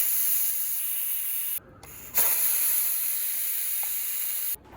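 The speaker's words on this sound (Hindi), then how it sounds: "अब कुकर में 2 सीटी लग चुकी है।" A pressure cooker releases steam while jujubes (ber) cook inside: a loud, airy hiss that runs steadily, breaks off briefly, surges again, then stops near the end.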